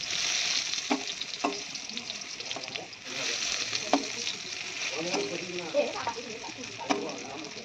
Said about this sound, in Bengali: তো দেখো আমাদের কাঁকরোলটা ভাজতে দিয়ে দিয়েছি